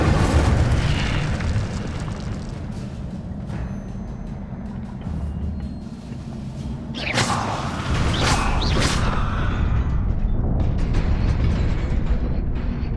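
In Hogwarts Legacy the Incendio fire spell goes off as a loud booming whoosh of flame amid rumbling magical effects, with several bursts and crackles following over a continuous game soundscape.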